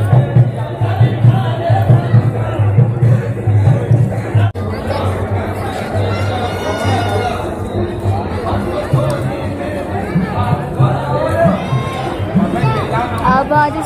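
Dense crowd hubbub at the Dewa Sharif shrine on a Friday, with qawwali singing blending into the chatter and voices throughout, loud and continuous.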